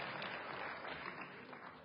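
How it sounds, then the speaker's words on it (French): Audience applause at a political rally in Versailles, a dense continuous wash of clapping filling the whole stretch at moderate level with no pauses. "Vous avez le droit de vous applaudir"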